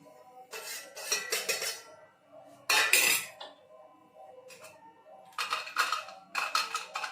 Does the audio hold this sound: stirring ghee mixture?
yes